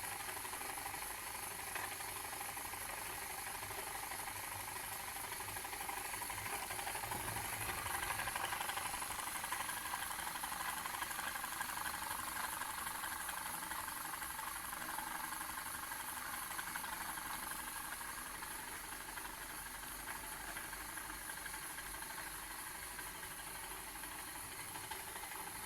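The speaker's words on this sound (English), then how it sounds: "And there's the PM Research glass engine." A PM Research glass solar model engine runs steadily, giving a continuous hiss and soft mechanical whir that stays even throughout, with no voices.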